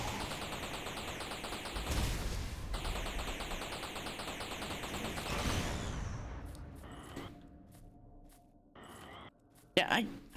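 Rapid automatic gunfire from shooting a level 1 orb in the space salvage game Space Trash Scavenger, a dense loud stream of shots that breaks off partway, followed by scattered lighter game effects and a few sharp bursts.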